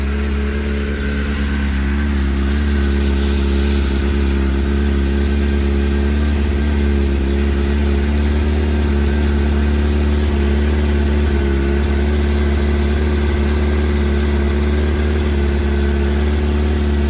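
A newly bought motorcycle with a reported fault idling at about 2000 rpm, its steady, loud engine drone holding a constant pitch close by throughout, with no talk over it.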